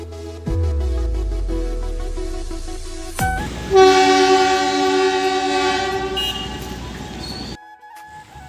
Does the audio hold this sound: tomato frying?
no